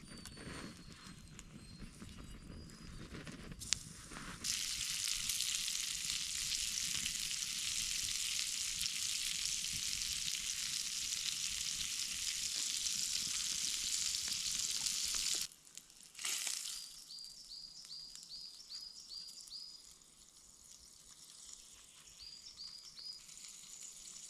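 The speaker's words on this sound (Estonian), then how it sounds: "ma pean veel liha praadima." Meat sizzles steadily in a pan over a campfire in a forest at night, a loud continuous fry for about ten seconds that then stops, leaving quieter outdoor ambience with faint chirps.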